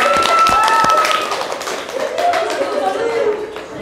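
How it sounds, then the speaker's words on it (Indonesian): Students applaud in a classroom, a short burst of close, lively clapping mixed with voices talking and chattering throughout. "Beri tepuk tangan."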